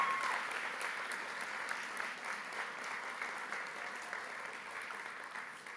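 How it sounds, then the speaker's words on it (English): An audience at a morning talk event applauds steadily, a continuous even patter of clapping heard somewhat distant and soft that slowly tapers off. "let's give another round of applause for her"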